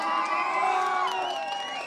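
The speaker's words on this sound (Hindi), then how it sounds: "सबसे गुजारिश है तालियां।" Crowd at a village fair, the Bhuru Nag Devta Mela, breaks into loud cheering and shouting with layered voices, close and sustained for a moment.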